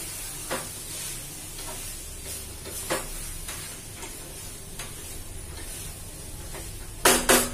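Soybean chunks fry and get stirred in a pan, giving a soft steady sizzle with scattered spoon scrapes and taps, then a brief louder burst of clatter near the end.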